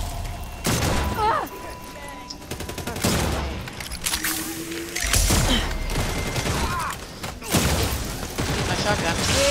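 Shotgun blasts in the Redfall vampire-hunting game: several loud, heavy shots spaced a couple of seconds apart, each a sharp broadband burst with a short tail, over busy combat noise and game effects.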